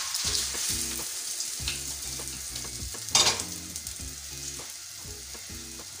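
An egg paratha frying in ghee and being flipped: a bright steady sizzle under a rhythmic background tune, with a sharp scrape and burst of crackle from the flip midway.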